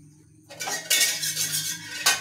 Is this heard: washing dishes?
yes